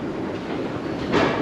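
A Los Angeles subway train rumbles along the rails with a steady rolling roar, then grows louder and brighter near the end as it passes close; no one speaks.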